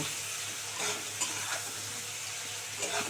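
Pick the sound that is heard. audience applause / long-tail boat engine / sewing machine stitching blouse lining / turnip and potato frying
turnip and potato frying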